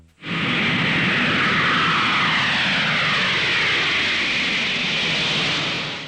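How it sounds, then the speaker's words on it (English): A Boeing 747 jumbo jet roars steadily with loud, continuous engine noise throughout, a broad rushing drone that swells in at the start and holds without pause. "Reach for the skies with the Boeing 747. This iconic jumbo jet revolutionized air travel in the 70s"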